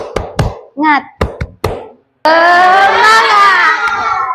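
A classroom of children performs a rhythmic clapping chant, a few sharp claps and voiced calls followed by a loud burst of many young voices shouting together, close and energetic.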